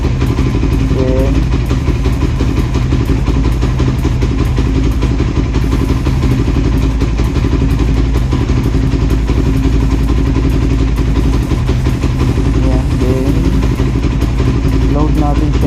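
A Suzuki Raider 150 motorcycle with a racing ECU being calibrated, its engine revving hard and sustained at high rpm, loud and close, with someone speaking over the noise.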